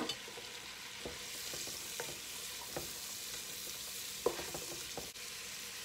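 Peppers, yellow squash and celery sizzle steadily in a hot pan for jambalaya, a soft continuous crackle with scattered light clicks of stirring, close and alone.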